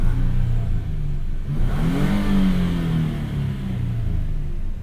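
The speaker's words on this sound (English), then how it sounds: "Should we get an exhaust clip?" A 2022 Nissan Frontier pickup truck engine revs up with a deep, throaty exhaust rumble, climbing in pitch then settling back to a steady idle, close and loud.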